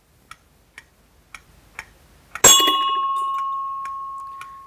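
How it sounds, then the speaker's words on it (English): A heavier rotating mass strikes a metal bell once, a sharp ringing clang that sustains and slowly decays, preceded by several faint ticks as it swings around. "See, it struck the bell."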